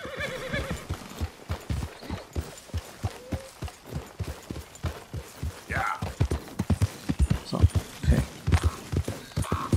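Horse hooves clip-clop at a steady walking-to-trotting rhythm while riding in Red Dead Redemption 2, with a brief neigh and someone talking intermittently over the hoofbeats.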